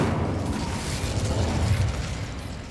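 An Incendio fire spell erupts in Hogwarts Legacy as a broad, roaring burst of flame, a sustained rumbling whoosh holding steady for a few seconds without any voices.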